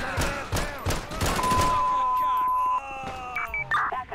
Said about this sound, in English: Is that a gunshot? It is a gunshot.